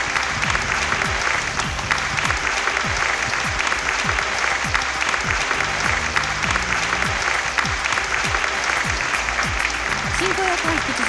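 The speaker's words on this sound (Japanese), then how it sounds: "拍手でお迎えくださいませ。" Steady, dense applause from a large conference audience at an awards show in Japan, greeting panelists as they take the stage; sustained and even throughout, with no voices standing out.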